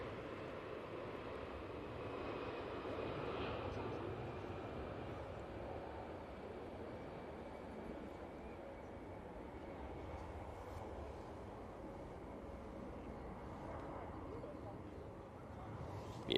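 Lufthansa jet in Star Alliance livery on its takeoff roll at Manchester Airport, a steady broad distant engine roar held throughout, with faint voices talking over it.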